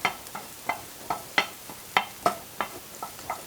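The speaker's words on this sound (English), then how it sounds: "You just kind of saute it. And you kind of have to stir it constantly or it'll burn." Tomato paste sautéing in a pan while a utensil stirs it steadily, with repeated scraping strokes about every third of a second over a soft sizzle, close and fairly loud with no talking.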